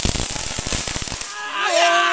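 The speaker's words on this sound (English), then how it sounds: "That is a stinky firework." Backyard fireworks go off in a rapid string of sharp crackling pops for about a second, then give way to a hissing fizz and whistling tones at close range as people exclaim nearby.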